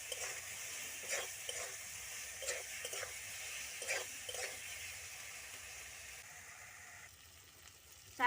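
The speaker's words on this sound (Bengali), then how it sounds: "আবার একটু নুন দিয়ে দিচ্ছি। কষিয়ে নিই ভালো করে।" Food sizzles steadily in a hot pan while it is stirred and sautéed and salt is added, with recurring spatula scrapes and clicks over a continuous frying hiss, close and moderately loud, ending in a sharp clink.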